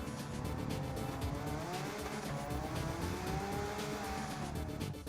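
A Subaru Impreza WRX STI with a 911 Turbo S engine swap races around the Nürburgring in Gran Turismo 7, a constant loud engine roar with rising and falling pitch, tire noise and no voices.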